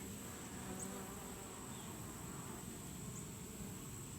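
A soft, steady hum of many honey bees buzzing together around an open Layens hive, constant and faint, with no voices.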